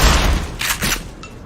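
Shotgun blasts in the video game Black Mesa: a heavy boom opens, followed by two more broad bursts of fire about a quarter second apart and a faint metallic click near the end, loud and close, with no talk.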